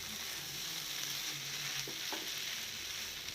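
Beef chunks frying in a pan for a Kerala-style ularth, giving a steady, close sizzle with a faint clink of a utensil near the middle and no voices.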